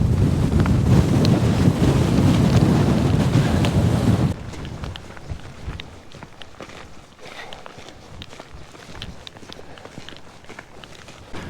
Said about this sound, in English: It's still windy, it's still cold, and there's still snow coming down